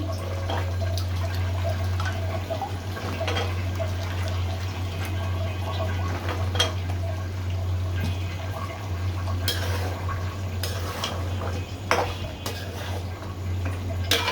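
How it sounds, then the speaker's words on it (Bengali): Jackfruit seeds are tipped into a pot of cooked beef and stirred, with scattered clattering knocks and scraping over a steady low electrical hum. "আমি এখন কাঁঠালের বিচিগুলো দিয়ে দিচ্ছি।"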